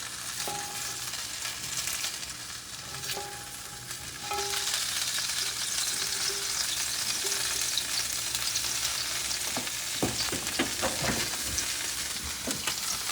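Sausages sizzling on an indoor grill after being flipped, a continuous close crackling sizzle that grows louder, with a few clicks and handling knocks near the end.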